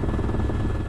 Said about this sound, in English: What they're not investing in, though, are helicopters.